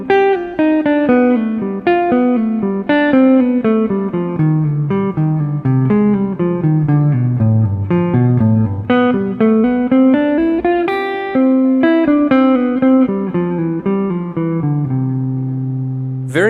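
Guitar plays the closing bars of a Bach piece, a continuous flowing line of clear plucked notes that winds down and settles on a sustained final chord, loud and close with no talking.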